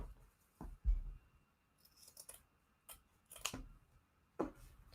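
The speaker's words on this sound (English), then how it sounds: "now I'm going to cut the corners here" Scissors snip the corners of fabric for a junk journal, giving several short, close, crisp cuts spaced irregularly with quiet pauses between them and no talking.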